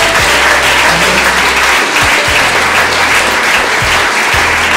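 A church congregation claps loudly and steadily, a continuous wash of applause lasting several seconds, with low tonal sounds beneath it.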